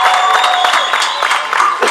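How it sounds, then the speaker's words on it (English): A crowd at an outdoor medical marijuana and hemp rally in Cincinnati breaks into applause, dense clapping with some cheering lasting the whole moment. "let's give her a round of applause"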